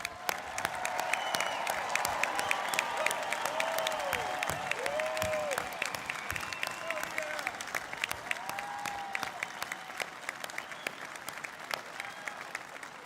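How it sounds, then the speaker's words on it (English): A commencement crowd gives a long round of applause to the graduating Class of 2021 at the Owen ceremony, dense clapping with scattered cheers and crowd murmur that gradually thins toward the end. "Let's give them one more round of applause."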